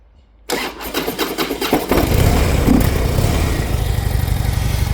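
A 2009 Harley-Davidson FXDL Dyna Low Rider with a fuel-injected Twin Cam 96 engine cranks briefly with a few stuttering turns, then catches and settles into a loud, steady, close rumbling idle with no talk.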